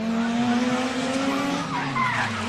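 Drift cars at a Super Drift Brasil round slide around the track, their tires squealing in a continuous loud howl over droning engines, with rising and falling squeal tones near the end.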